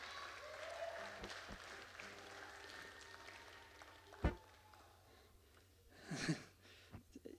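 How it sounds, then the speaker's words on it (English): Applause from a church Vacation Bible School crowd as a child volunteer comes up front, a steady wash of clapping with a couple of brief louder bursts near the middle and end. "Give him a round of applause."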